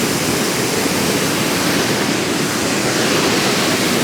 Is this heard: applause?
no